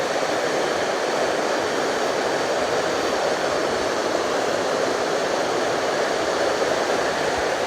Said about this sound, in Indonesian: Dan lihat teman-teman, ini arusnya lumayan deras ya.